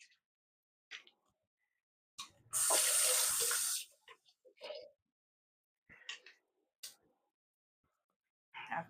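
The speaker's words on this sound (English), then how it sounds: "I wash my knives." Kitchen knives rinsed under a running sink tap, with a loud burst of splashing water lasting a second or so, then quiet rustles and soft speech around it.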